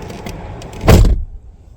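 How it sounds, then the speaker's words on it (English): Door locks on a 2004-2010 Mercury Mountaineer cycling, a single loud thunk of the lock actuators close by, following a brief stretch of quiet cabin noise. "Locks will again cycle to indicate end of programming mode."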